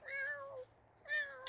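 A cat in The Sims 4 video game gives two clear meows, each rising then falling, separated by a short pause, close and clean with no talk.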